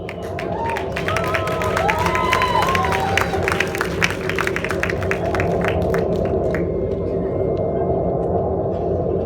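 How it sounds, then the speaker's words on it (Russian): Loud, continuous crowd applause with cheering after a dance performance, dense clapping sustained throughout, with voices calling out over it. "Аплодисменты, друзья!"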